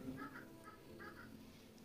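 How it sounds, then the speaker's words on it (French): Faint hens cluck and grumble in short bursts, distant and outdoors, over a steady low background hum. "Écoutez, elles râlent en plus dehors, nos poules."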